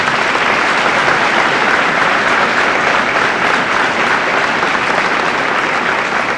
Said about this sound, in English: Let's give a round of applause to all these awards.